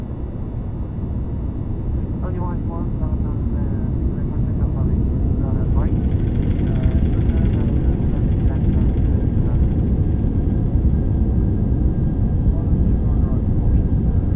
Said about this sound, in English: Full reverse. Full reverse.